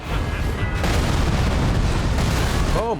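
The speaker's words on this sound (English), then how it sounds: "Oh, so that's a dual explosion there." A loud, booming explosion in the Elden Ring video game rolls on for about three seconds as a sustained roar, with a brief rising tonal sound near the end.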